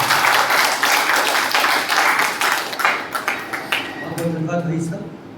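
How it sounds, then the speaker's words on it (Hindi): Dense, sustained applause from a crowd at a theatre discussion event fills the room, thinning into scattered claps toward the end. "जोरदार तालियां इनके लिए।"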